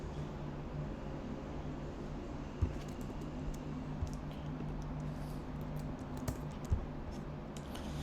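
Computer keyboard being typed on, with a key press for enter: soft, quiet clicks and taps scattered irregularly over a low steady background hum, with a few sharper keystrokes standing out.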